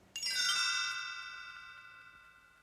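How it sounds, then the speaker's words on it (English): Bright chimes ring out once as a page-turn cue for a Three Little Pigs read-along, a sharp struck onset followed by shimmering overtones that slowly decay over a couple of seconds, alone and clear. "You will know it is time to turn the page when you hear the chimes ring like this"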